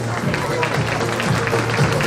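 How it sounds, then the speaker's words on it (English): Parents applauding at a school orientation programme for an LKG class, dense continuous clapping from the seated audience, moderately loud, with voices mixed in underneath. "Round of applause, dear parents."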